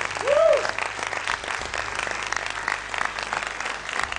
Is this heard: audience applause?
yes